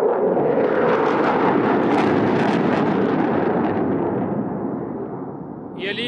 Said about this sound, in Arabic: دخول تشكيل ثنائي من طائرات F-15SA متعددة المهام لأداء التحية